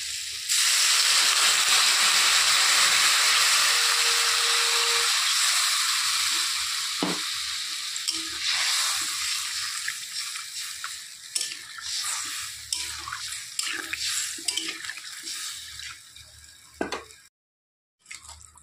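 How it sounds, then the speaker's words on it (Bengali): Broth pours into a hot pan of spiced fish curry with a loud burst of hissing sizzle that slowly fades into softer bubbling and stirring clinks. "এখন দিয়ে দিচ্ছি ঝোল।"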